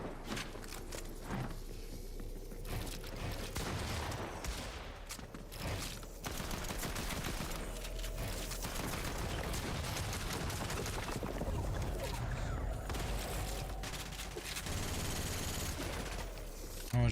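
Gunfire in Fortnite creative mode: dense bursts of rapid shots and overlapping fusillades continue throughout at moderate loudness, with occasional footstep-like thuds in between.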